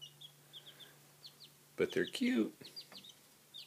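Young chicks in a small backyard coop chirping and peeping, with brief soft calls scattered throughout and a louder burst in the middle, while a person speaks briefly over them.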